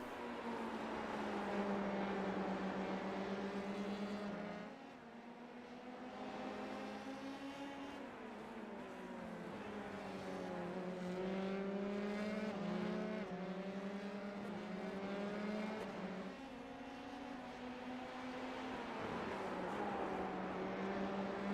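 Formula 3 race car engines in a racing video game whine at high, sustained revs, pitch rising and dipping through gear changes and a chicane, one continuous droning engine note throughout.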